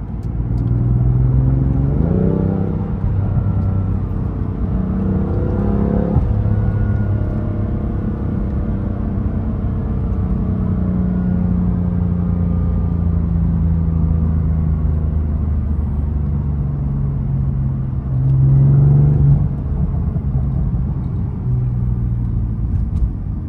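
A BMW F80 M3 drives at night with traction control off, its engine droning steadily and loud throughout, with a few rising revs and gear-change swells near the start and again later.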